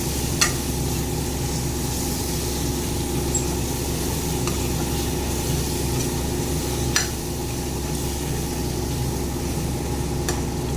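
Boiled potatoes sautéing in egg curry masala, a steady, even sizzle of frying with occasional faint clicks of a spoon, continuous and close without talk.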